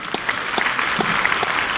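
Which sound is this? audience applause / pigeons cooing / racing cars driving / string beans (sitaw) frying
audience applause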